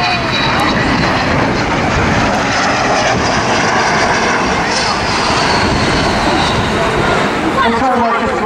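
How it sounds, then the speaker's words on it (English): Avro Vulcan XH558 delta-wing bomber passing at the Southend Airshow, a loud, sustained engine roar and rushing whine filling the whole stretch, with a crowd and commentary faintly beneath. "So here she is, the wonderful Airshow Vulcan XH558."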